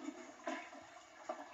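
Toilet flush, a short series of watery swishes and gurgles with a couple of louder surges, fairly quiet and alone without talking.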